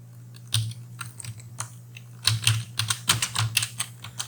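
Code typed on a computer keyboard, scattered keystrokes at first, then quicker bursts of crisp clicks close up, with a low steady hum underneath.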